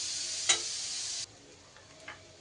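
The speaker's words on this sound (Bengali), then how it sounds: "এবার সব মশলা খুব হালকা আঁচে একটু ভাজা ভাজা করে নেব।" Spices frying gently on low heat for shukto dal, a soft hiss that cuts off halfway, followed by faint ticks and light stirring clicks.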